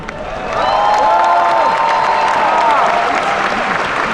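Concert crowd at a concert tour show in Paris applauding and cheering, swelling after a half-second and holding steady with a few drawn-out whistles or calls riding over the clapping.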